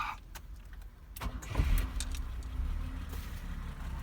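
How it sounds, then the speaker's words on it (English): A 1970 BMW 2800 CS engine cranks and catches, then settles into a steady idle, heard close by after a few clicks and a faint jingle at the start. "And this is all the papers of the works done, and the car starts"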